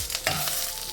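Lentils frying in hot oil in a pan while being stirred for an Andhra-style cauliflower and potato dish, with a steady close sizzle and a quick scrape of the spoon.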